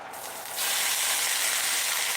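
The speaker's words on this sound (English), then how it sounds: "That's sizzling going." Food hitting a hot pan oiled with avocado oil, a bright, loud sizzle that swells suddenly after a brief quieter start and then holds as a steady hiss.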